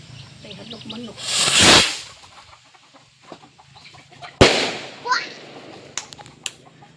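A sharp whoosh rises as a skyrocket firework launches, then a loud single bang follows, with a few smaller crackling pops trailing after; voices murmur faintly in the background.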